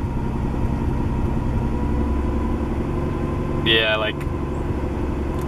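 A budget-build car engine idling a little high just after starting, a steady low drone with a brief higher whine near the end, while a person talks casually over it.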